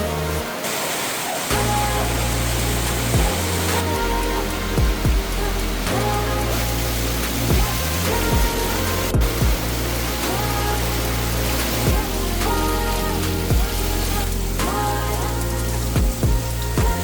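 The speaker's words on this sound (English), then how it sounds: "So it's raining." Rain falling outside during a home vlog, a steady hiss running throughout beneath recurring musical tones and soft intermittent knocks, fairly loud and close.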